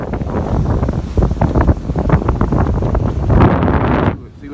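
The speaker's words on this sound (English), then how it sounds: "It's about 30 degrees, 15 miles per hour wind. Y'all see how rough it is." Strong wind of about 15 miles per hour on a lake while crappie fishing on a cold morning, heard as loud, buffeting gusts hitting the microphone, with lapping water and someone speaking under the roar.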